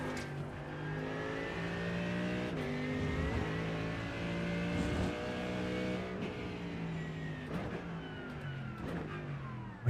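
A GT3 race car engine in the iRacing sim at Daytona drones steadily, its harmonics rising and falling through gear shifts and revs across the whole stretch, loud and close with no talk.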